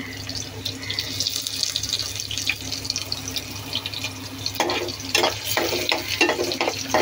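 Onions and garlic frying in a pan, a steady broadband hiss and crackle throughout with occasional stirring clatter and scraping, close and fairly loud, no talking.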